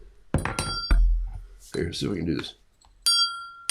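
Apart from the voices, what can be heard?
improvised bell made from discarded object ringing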